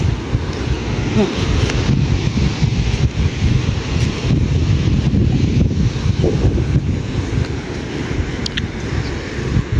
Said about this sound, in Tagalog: ang lakas-lakas naman ng hangin at hampas ng tubig